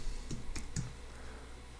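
A few quiet, separate keystrokes on a computer keyboard while a flight plan is entered in an F50 flight simulation in X-Plane 11, three soft clicks close together with no voices.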